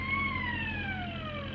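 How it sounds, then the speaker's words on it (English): Wailing siren of an old-fashioned 1930s police car in pursuit, one steady, loud tone that slowly glides downward with no pauses. "this must be very fun riding on an old-fashioned 1930s police car when they're in pursuit"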